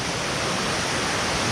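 Nabaroto Falls in San Andres, Quezon, pours into a stream as a dense, constant, loud rushing roar of water with no voices.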